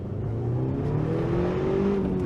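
An Eagle Talon with stock all-wheel drive accelerates on snow, its engine note rising steadily as revs climb, loud and continuous throughout.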